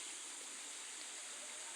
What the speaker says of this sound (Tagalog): Oh, ilog yan.